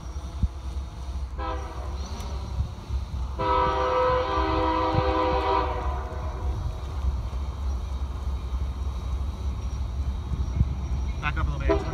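A Norfolk Southern freight train blows its horn at a railroad crossing, with a short blast and then a longer, louder sustained chord heard from a moderate distance over steady rumble and outdoor wind noise.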